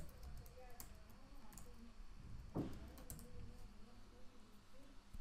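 Soft, faint keystrokes and clicks as text is typed on a computer keyboard, a light irregular patter under a low voice.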